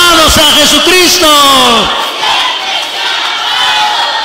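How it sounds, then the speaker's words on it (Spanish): Congregation at a church sermon in a Guatemalan village, cheering and shouting loudly with applause in a dense crowd roar; strong voiced shouts lead, then give way to sustained clapping and crowd noise. "Jesús merece más que esos aplausos porque Él merece esa honra y la gloria."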